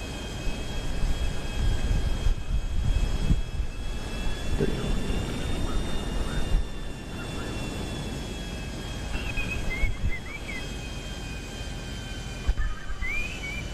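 A steady airplane engine drone in GTA 5 Online hums throughout with a faint whistling tone on top and occasional soft bursts of sound, fairly loud and continuous.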